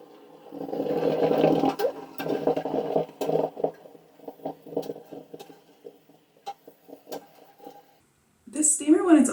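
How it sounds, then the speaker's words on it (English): Hair steamer running with water gurgling, hissing and bubbling in uneven spurts with ticking clicks, close and moderately quiet, ending with a brief voice. "This steamer, when it's overfilled, hot water like pours out of it."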